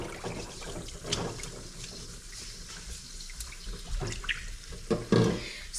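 Fresh eggs washed under a running kitchen tap, water splashing steadily into the sink with occasional clatter and handling noises, close and moderately loud, no talk.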